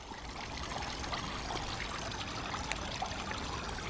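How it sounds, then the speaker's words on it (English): A small waterfall in a miniature garden rock pool trickles and splashes at close range in a continuous, even stream of water, with no voices. "Waterfall,"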